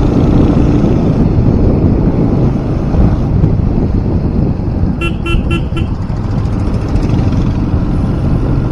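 A 20 bhp motorcycle engine thumps steadily on a morning ride, a continuous low rumble mixed with heavy wind buffeting, with a brief tonal beep midway and no talking.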